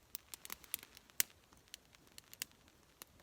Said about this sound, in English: It just started raining. I didn't even notice. I started hearing it on the tarp